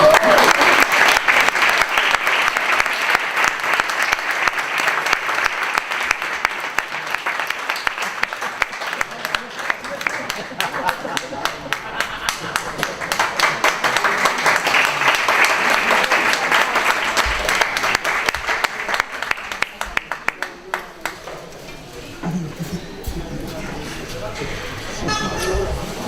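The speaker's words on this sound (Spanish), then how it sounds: "Un fuerte aplauso." A concert audience claps in loud, sustained applause that swells and thins over about twenty seconds before fading, with voices mixed in toward the end.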